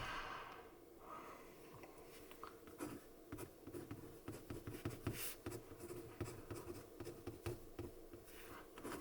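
Quiet scratching of a pen moving across paper in short strokes, close and soft, with occasional faint breaths in between.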